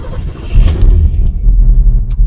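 1967 Lincoln on a test drive, a loud, close low rumble of the engine and road throbbing steadily inside the car, with brief rattles and no talk.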